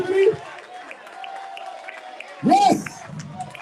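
A crowd at a gathering in Atlanta claps and cheers in two short bursts with whoops, separated by a quieter stretch of murmuring voices.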